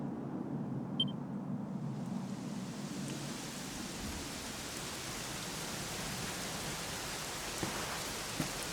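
Steady rain hissing evenly in a fantasy role-playing game, a constant wash of falling water with a couple of faint distant knocks.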